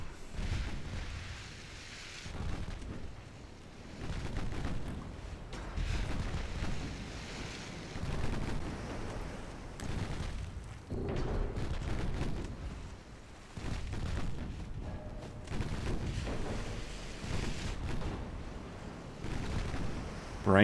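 Warship guns firing in a naval warfare game set in a Japanese campaign: repeated deep, rumbling booms roll one into another at a steady pace, sounding distant and heavy throughout.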